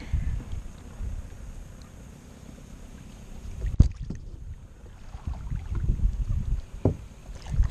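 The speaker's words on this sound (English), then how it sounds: "we're just going to paddle around the island and back, see if we can get some deeper water" A kayak is paddled on shallow water around an island in Jervis Bay. The strokes are soft and rhythmic, with low splashy swishes and steady wind buffeting the microphone, plus one sharp knock midway.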